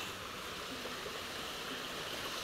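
Water flowing in a small creek, a soft, steady rushing hiss with no breaks, heard alone at low level.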